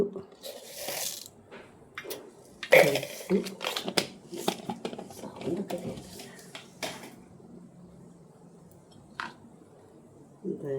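Mustard seeds spluttering in hot oil for a Kerala-style beef fry: irregular crackles and pops, busiest early and thinning out, with a voice speaking at times.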